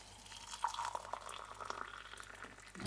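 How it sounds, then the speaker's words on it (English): Boiling water trickles and splashes into a cup of paper clips, a faint bubbling, dripping pour with light clinks, soft and close with no voices. "we'll chuck those into a cup, put boiling water into it"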